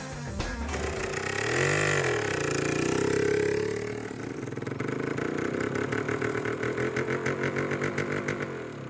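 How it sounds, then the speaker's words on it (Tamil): A motor vehicle engine idles nearby, a steady low rumble that swells briefly and then settles into a fluttering, even idle, with no talk over it. "ஏய் தேரி, வண்டி வாங்கிட்ட போல இருக்கு"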